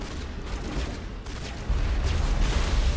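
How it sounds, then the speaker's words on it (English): Mass Effect game combat with explosions and gunfire, a dense loud barrage of bursts that swells into a heavier rumbling boom partway through. "Wait, they just exploded!"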